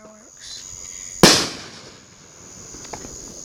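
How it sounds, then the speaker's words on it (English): A single firework explodes nearby with a sharp, loud bang and a brief fading tail, during a 2019 fireworks night in Morrison, Oklahoma. A steady, insect-like high hum runs underneath. "These are fireworks."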